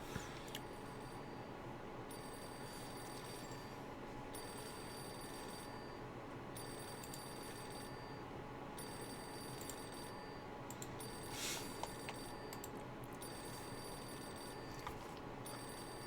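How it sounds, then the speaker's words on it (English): A telephone rings in the video game Reverse: 1999, sounding as faint, repeated electronic trills in regular bursts about two seconds apart over a low, steady ambient hum. "Is anyone going to pick up the phone?"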